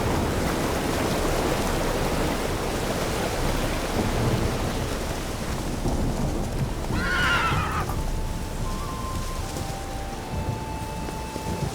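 Roach, a horse in The Witcher 3, gives a short neigh over steady rain and rolling thunder, a distinct whinny rising briefly out of the constant storm wash.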